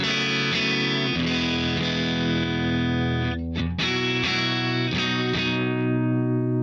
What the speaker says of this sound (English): This is no overdrive, just the pedal itself